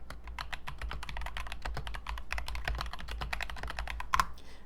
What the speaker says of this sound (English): You just double click on it and start typing.